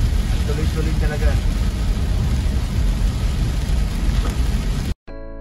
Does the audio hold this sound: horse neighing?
no